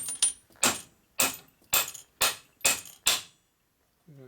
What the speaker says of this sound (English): now we got to tap this in with a hammer a little bit